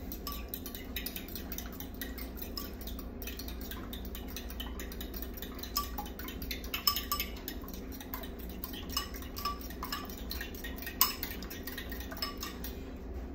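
Eggs being whisked in a bowl for an omelette, a quick rhythmic clatter of utensil against the bowl's sides, close and fairly quiet, continuing steadily with a few sharper taps.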